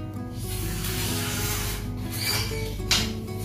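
Rough carbon blank of a Haizen Black Master 450 tegek fishing rod being rubbed by hand, giving a steady close scratchy rasp that runs throughout with a brief sharper scrape near the end.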